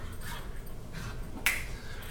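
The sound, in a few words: dogs wrestling in the background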